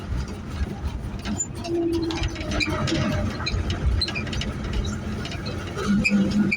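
A 1978 Dodge short box truck with a funky carburetor runs steadily nearby, a rough, uneven engine drone with rattly mechanical clatter throughout.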